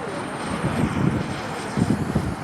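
RC model jet on landing approach at a jet rally, a steady turbine roar with rising swells, moderately close, a voice briefly audible under the engine noise.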